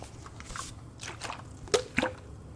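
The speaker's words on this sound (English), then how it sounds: "And then meanwhile I will do some water sounds." Soft wet squishes and a few small drips of water close to the mic, sparse and quiet against a low hum.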